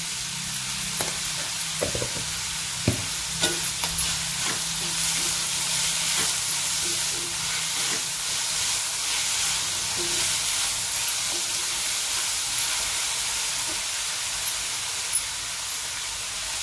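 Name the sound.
onion and tomato roasting in a pan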